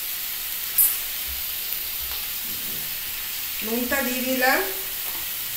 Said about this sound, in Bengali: এবার একটু ভাজা হবে, সমস্ত সবজি একসাথে দিয়ে দিয়েছি।